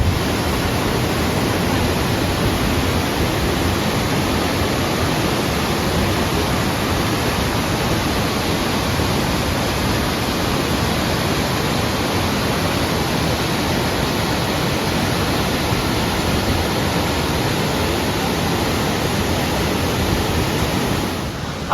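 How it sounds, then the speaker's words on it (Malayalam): A waterfall roars up close, a loud, dense, unbroken rush of falling water that holds steady the whole time with no other sounds standing out. "അപ്പൊ നമ്മളിവിടെ വെള്ളച്ചാട്ടത്തിന്റെ അടുത്ത് എത്തിയ കേട്ടോ"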